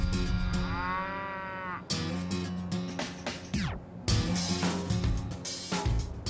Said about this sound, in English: we're going to meet the prize-winning herd of longhorn cattle, an entire paddock of clones.